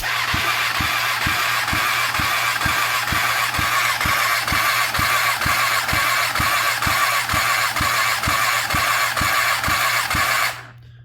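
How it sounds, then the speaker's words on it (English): A Kawasaki ZX10R engine with a spark plug pulled cranks on its starter during a compression test on cylinder two. It gives an even, rhythmic whirring with about twenty regular compression pulses, then stops abruptly near the end. "We're going to try testing compression again on cylinder number 2."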